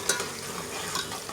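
Onions frying with ginger garlic paste in a pan for a chicken achar gosht, a steady close sizzle with stirring scrapes and a few brief spoon clinks.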